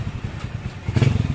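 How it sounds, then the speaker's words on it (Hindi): Hero Splendor motorcycle idling with a gear engaged and clutch being released, a low throbbing putter that grows heavier and louder toward the end, close by and without speech. "बाइक स्टार्ट है। आप इंजन की साउंड सुन सकते हैं"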